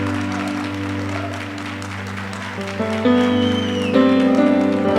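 A church congregation applauding during a worship service: clapping rises under loud, sustained instrumental music that swells and grows louder midway.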